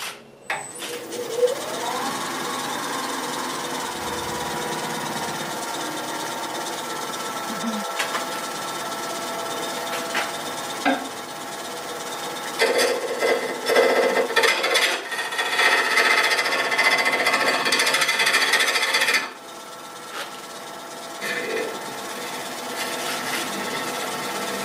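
A lathe tool cuts a resin and wood goblet, producing a continuous, fairly loud whirring scrape that swells and roughens in places as the cut proceeds, steady for the whole stretch.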